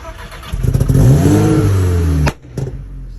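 A car engine turns over and catches, revving up loud and close for a couple of seconds before cutting off, followed by a brief clunk.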